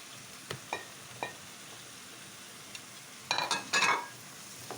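Chickpeas go into a sizzling pan for a chicken drumstick and potato dish. A faint, steady sizzle carries a few light clicks, then a brief burst of louder crackling and clatter as they hit the pan.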